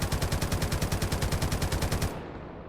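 An M60 machine gun, chambered in .308 Winchester, fires in a Minecraft gun mod: a fast, evenly spaced automatic burst of about twenty-five close, loud shots, then it stops abruptly and leaves a fading echo.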